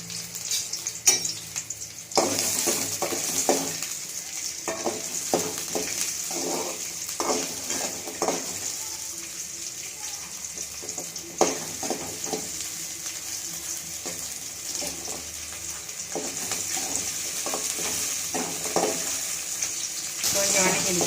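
Small shallots sizzle and fry in oil in a pan while being stirred, with steady hissing throughout and repeated scraping, clattering strokes of a utensil against the pan; no speech.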